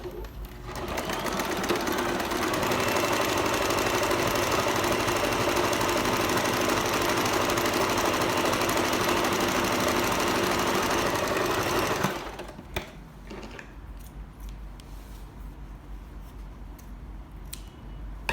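A sewing machine stitches a dart in a blouse, a fast steady whirring run lasting about twelve seconds before stopping, followed by quieter handling and fabric rustle.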